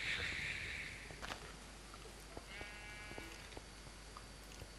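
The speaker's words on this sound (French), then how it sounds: "Le mouton, il bouffe tes arbres." Sheep in the Minecraft video game bleat several times, short synthetic baas over faint game clicks and steps, with no talking.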